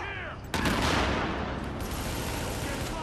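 Gunfire erupts in Tom Clancy's The Division in a sudden, dense burst of rapid shots after a short pause. It roars loud and continuous to the end, with a voice speaking before the shooting starts.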